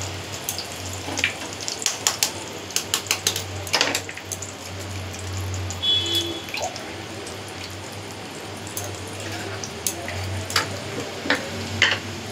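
A roll fries gently in a pan over a low flame, giving a soft continuous sizzle broken by scattered small pops and clicks, close by with no talking.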